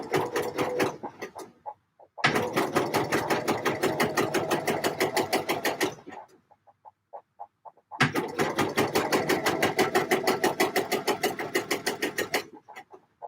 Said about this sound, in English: Try and not let any of the weight of the dress pull on the fabric as I'm stitching it